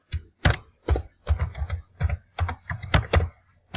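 Someone types on a computer keyboard in a quiet room: irregular bursts of crisp, close-up keystroke clicks, some in quick runs and some spaced apart.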